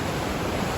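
Steady, dense roar of Takkakaw Falls, a 254-meter waterfall in Yoho, British Columbia, heard as continuous broadband rushing water filling the short clip at even loudness with no voices.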